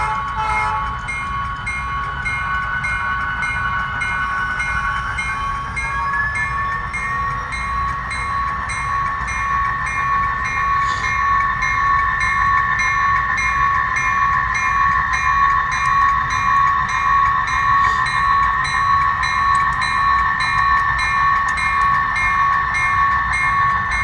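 Continuous rumble and clatter of a model train running along its track, with a sustained whistle-like tone over it, no talking.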